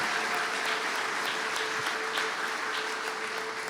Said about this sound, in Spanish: Dele fuerte esa ofrenda de palmas a Dios en el inicio de esta semana.